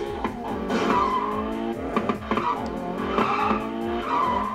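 Tires squeal and skid repeatedly as a car drifts in a Unity 2D car game, with steady engine drone and rhythmic skidding bursts, loud and close, with no talk.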